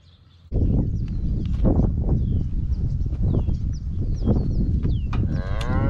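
Cattle moo loudly and repeatedly near a cow sprayer on a farm, deep overlapping calls one after another, with birds chirping faintly in the background.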